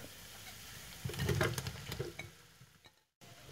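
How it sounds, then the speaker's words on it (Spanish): Onions and ground cumin sautéing in a pan as they are stirred, a sizzle that swells with a burst of scraping stirs, then settles and briefly cuts out before resuming, close with no voices. "Mezclamos bien y vamos a saltear un par de minutos, lo suficiente para que las cebollas queden al dente"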